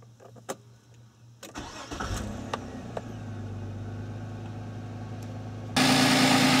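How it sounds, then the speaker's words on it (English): A car engine cranks and catches after an EGR valve repair, then idles steadily; a few clicks come first, and the running gets abruptly louder near the end. "I'm going to start the car,"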